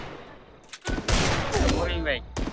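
Gunfire in the mobile battle game Free Fire cracks out in rapid bursts over a couple of seconds, loud and close and mixed with game sounds.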